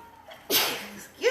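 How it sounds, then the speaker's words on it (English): A single sharp human sneeze bursts out midway, loud and close, followed by a brief vocal sound at the very end. "I'm gonna sneeze."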